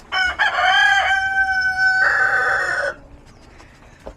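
A rooster crows nearby in one long, loud call with a short break partway through, and a few faint clucks and small sounds follow once it ends.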